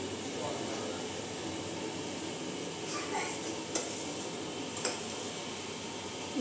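Gulab jamun fry in hot oil with a steady, soft, close sizzle and the occasional faint clink of a utensil.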